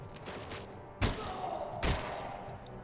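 Two heavy pistol shots ring out in the video game RoboCop: Rogue City, a second apart, each a sharp broadband crack over a steady background of game ambience.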